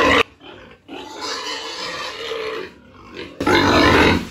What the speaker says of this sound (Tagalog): tayo po ay maglilipat ngayon ng ating mga biik.